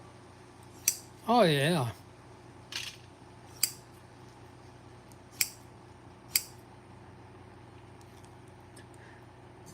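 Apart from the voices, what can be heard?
sharpened pinking shears cutting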